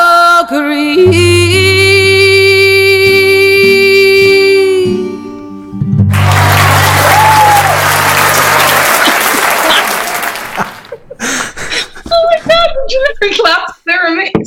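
Audience applause bursts out for several seconds after a sustained tonal musical passage, dense and loud, then thins into scattered claps and voices talking at a live event.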